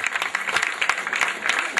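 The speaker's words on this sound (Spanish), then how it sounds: "Un aplauso para ellos." Applause from an audience at a press conference on founders of the homeland and sport, steady clapping sustained throughout at moderate volume with no talk over it.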